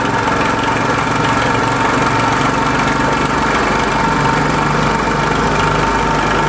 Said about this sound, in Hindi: इंजन हमारा स्मूथ चल रहा है यहाँ, और इस आइडल स्पीड को हमने सेट कर देना है यहाँ पे।